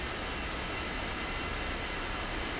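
Jet engine of an L-39ZA Albatros trainer spooling up in the DCS World flight simulator, heard from the cockpit as a steady, dense, loud roar with no breaks.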